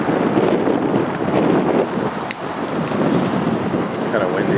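Strong wind gusting at the top of Sloss Furnace in Birmingham, a constant loud rushing buffet across the microphone, with a person talking faintly underneath.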